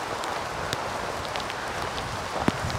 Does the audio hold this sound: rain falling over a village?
yes